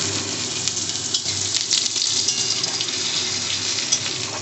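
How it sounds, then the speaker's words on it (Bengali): Curry leaves and crushed garlic hitting hot mustard-seed and dried red chili tempering oil for masoor dal, a steady loud crackling sizzle with faint hum beneath, no talk. "শুকনো লঙ্কা ফোড়ন সর্ষে ফোড়ন দেওয়ার পর এর মধ্যে দেবো একটুখানি কারি পাতা একটুখানি রসুন থেতো করে"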